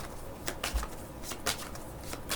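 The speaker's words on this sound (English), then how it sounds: "Let me give it a quick shuffle." Tarot cards being shuffled by hand, a quick series of soft riffling and slapping bursts spread across a couple of seconds, fairly quiet and close, with no talking.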